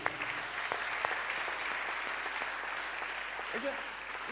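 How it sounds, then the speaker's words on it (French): A church congregation clapping hands together in steady, continuous applause that fills the room, close and loud, with voices mixed in underneath. "Clap your hand for Jesus Christ"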